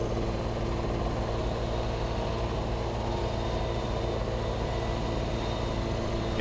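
A helicopter in Farming Simulator 17 drones steadily from a first-person cockpit view, with a constant low rotor and engine rumble that stays even and unbroken throughout.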